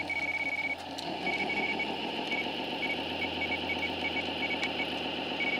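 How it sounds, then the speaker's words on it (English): Steady electronic beeps from an RC truck's servo trim adjustment repeat in short pulses over a continuous motor whine and rhythmic mechanical chatter, close and fairly quiet; the truck is a 10x10 Optimus Prime replica on a RadioLink RC8X transmitter. "The beeping you hear is just my trim,"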